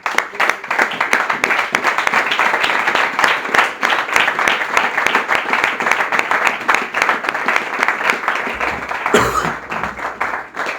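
A church congregation applauding together, sustained dense clapping that holds steady for several seconds before tapering off near the end, no talk over it.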